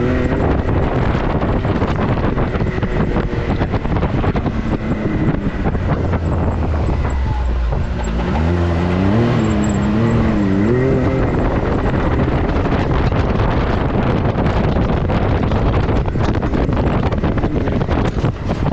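A Can-Am Maverick X3 RS side-by-side roars over a natural tabletop jump on a dirt turn track, its engine loud and close under heavy wind buffeting, the pitch rising and wavering as it launches and lands.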